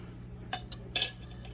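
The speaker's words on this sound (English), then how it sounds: "You're going to want to take a little spoon here." A small spoon scrapes the seeds out of an apple, giving a few short, close metallic scrapes and clinks, the last one longer, with no talking.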